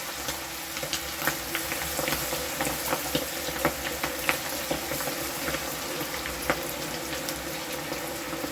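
Sliced okra frying in very hot oil for a crispy bhindi dish, giving a continuous bubbling sizzle with small crackles and pops scattered across it, close and even, with no talking.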